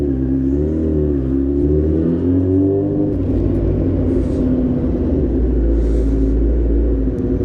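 A loud custom Honda Fireblade motorcycle roars on a test ride, its engine droning steadily and close with rising and falling revs and constant wind rumble, no talk heard.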